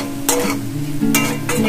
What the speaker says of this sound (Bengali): এবার আমি শাকটা দিয়ে দিচ্ছি। শাকটা দিয়ে আমরা চাপা দিয়ে দেবো নেড়ে